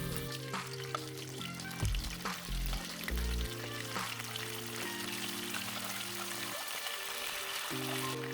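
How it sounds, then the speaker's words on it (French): Mutton pieces frying in a pan until golden give off a steady sizzle throughout, set against sustained low tonal sounds, with no one talking. "ce que je vais faire maintenant, c'est de frire la viande"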